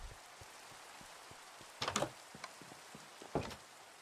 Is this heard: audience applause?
no